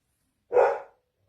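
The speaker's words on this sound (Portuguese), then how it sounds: "o cachorro tá latindo." A dog gives a single short bark, moderately close, with silence before and after.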